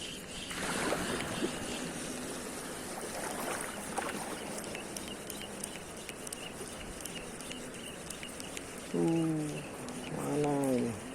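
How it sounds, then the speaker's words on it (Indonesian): Waves washing against a small fishing boat at sea, a steady low slosh and hiss of water with wind, while voices talk over it and a few brief tonal squeaks cut through near the end. "ini arah ombak datang"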